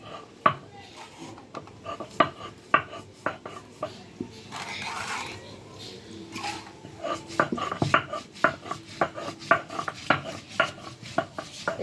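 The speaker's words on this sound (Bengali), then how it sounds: "এই যে দিয়ে নিছি, এখন এই পাটার মধ্যে দিয়া" Ginger is pounded and ground on a stone grinding slab, a near series of sharp knocks and scraping strokes in an uneven rhythm, steady and moderately loud, with no talking.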